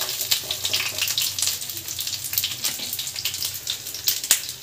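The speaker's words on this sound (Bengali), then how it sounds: "আমাদের কাঠি কাবাবগুলো ভাজা হয়ে গেছে, এবার তুলে নেব।" Chicken kathi kebabs frying in hot oil, a close, crackling sizzle with rapid irregular pops and spits throughout.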